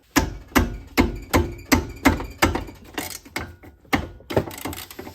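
A half-inch ratchet works on a brake bolt on a Honda Beat during a big brake kit install, giving about a dozen sharp, evenly spaced clicks and knocks close by, with no voices.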